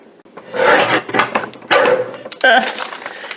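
A craft strip is cut in half lengthwise with a rough, rasping cut in several loud bursts and pauses, close up, with some talking mixed in.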